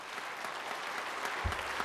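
Congregation in a church service applauds a pianist, a soft, distant wash of steady clapping with a brief low thump near the end.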